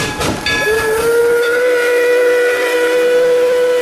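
A toy train's steam whistle gives a sustained, bright, steady tone lasting several seconds, close and loud over a breathy hiss, with no voices.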